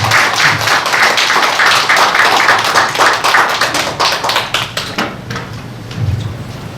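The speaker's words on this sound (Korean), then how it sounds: "큰 박수 부탁드립니다." Applause from an audience at a Korean election-monitoring network launch event, brisk clapping that is loud and busy at first, then thins into scattered claps and dies away.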